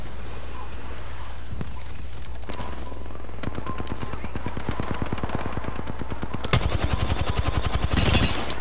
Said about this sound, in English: You stepped in front of the gunfire.